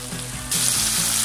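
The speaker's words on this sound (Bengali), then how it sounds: "আমার বিফ বলগুলো ভাজা হচ্ছে and আমি উল্টিয়ে দিয়েছি" Beef balls fry in a pan with a loud, close sizzle that swells sharply halfway through the short burst.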